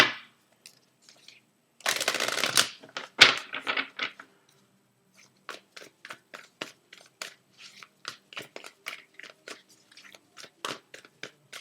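Tarot cards shuffled and handled close by in a quiet room: a brief riffling burst, then a long series of separate soft snaps and taps with short pauses between them.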